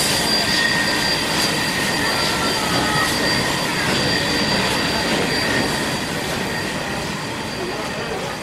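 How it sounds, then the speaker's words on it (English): Locomotive 3265 Hunter shunted back into storage at night near Maitland Railway Station, a steady loud rumble with hissing and high metallic squealing tones running throughout, unbroken and close. "3265 being shunted back into storage near Maitland Railway Station overnight"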